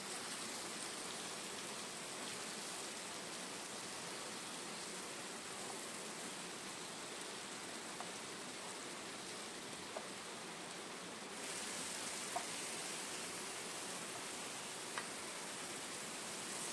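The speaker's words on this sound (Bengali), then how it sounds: "এইভাবে বাদবাকি যে চিকেনটা আছে সেগুলোও ভেজে নেব।" Chicken pieces fry in a pan with a steady, quiet sizzle and scattered soft pops and crackles, heard alone without talk.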